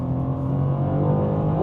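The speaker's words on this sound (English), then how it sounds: "Ignore me, just listen to the BMW." A BMW M2 G87 accelerates, its engine a steady, close, rising drone with a strong low harmonic tone, heard briefly without any talk.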